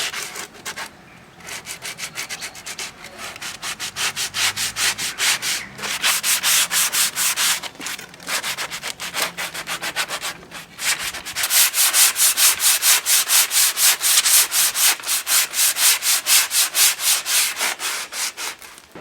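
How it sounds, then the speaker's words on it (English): A coarse sanding block rubs down the rough, furred edges of a wooden outdoor table in brisk, regular back-and-forth strokes, loud and close, with brief pauses between runs. "So we're using a coarse sanding block to rub down all of the rough furred edges all along all the sides of it."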